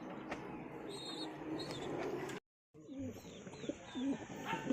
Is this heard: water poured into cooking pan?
no